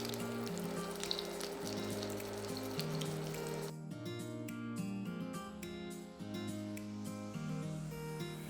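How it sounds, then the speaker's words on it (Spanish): Torrijas sizzle steadily in hot oil as they fry until golden, a continuous close crackle with soft bubbling that changes texture as the slices are turned. "Vamos a dorarlas bien por todas las caras y las vamos a sacar a un papel absorbente para que absorban el exceso de aceite."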